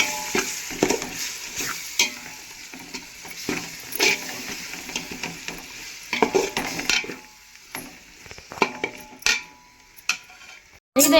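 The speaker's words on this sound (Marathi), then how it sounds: "तर आता इथं लसूण अद्रकची पेस्ट टाकून दिली." Garlic-ginger paste sizzles in a hot pan for a homemade biryani, with repeated scraping stirs of a metal spoon and clinks against the pan over a steady frying crackle.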